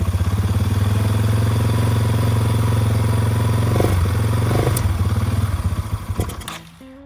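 A Yamaha TW200 dual-sport motorcycle, revived after sitting, idles steadily on half choke with a loud, even single-cylinder putter, a brief blip near the end, then the engine dies away into quiet.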